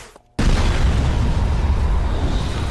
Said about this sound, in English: Wall blew out from the force of the explosion, and we went along with it.